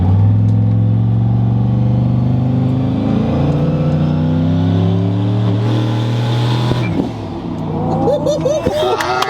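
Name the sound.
truck engine revving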